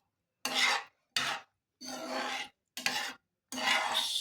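Coconut and rice flour mixture being stirred by hand in a bowl, five separate scraping, swishing bursts with short pauses between, close and clear with no talk.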